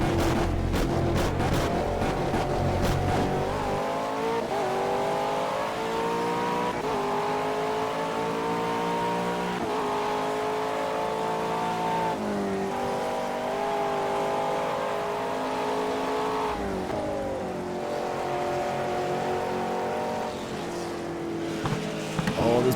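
BMW race car engine in Project CARS, a loud sustained drone that climbs and falls with gear changes and throttle, close and continuous with a brief talking voice near the start.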